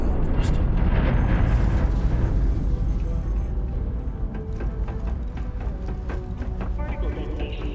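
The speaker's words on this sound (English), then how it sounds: "Particle detonation concluded." A particle detonation in Starfield rumbles loudly at first, a deep rolling roar that slowly thins into crackling debris and scattered rattling, with a voice speaking over the fading tail.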